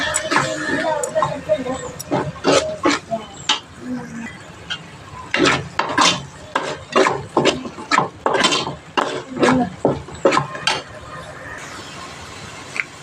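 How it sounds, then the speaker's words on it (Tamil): A spoon scrapes and stirs coriander powder into oily egg curry masala in a pan, giving a run of irregular, close scraping strokes with short pauses between them. "மல்லித்தூள் அதுவும் கொஞ்சம் போட்டு கிண்டிக்குவோம்"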